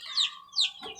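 Baby chicks peeping close up, three sharp, high, rising chirps spaced evenly over about a second, with nothing else audible between them.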